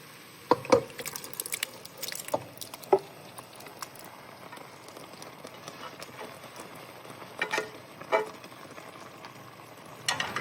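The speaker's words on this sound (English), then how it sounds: "Now we're going to fold in our sauce." Sauce is folded into drained, cooked pasta in a skillet for low sodium ziti, heard as scattered soft scrapes and taps over quiet background hiss, spaced out with pauses and no talk.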